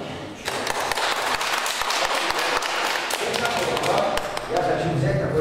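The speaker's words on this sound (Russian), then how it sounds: "поприветствуем аплодисментами Владимира" An audience at a live event breaks into dense, sustained applause, with many hands clapping close by and continuously for several seconds.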